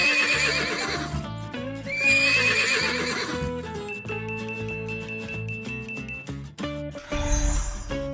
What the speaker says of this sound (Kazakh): Бұл жылқы.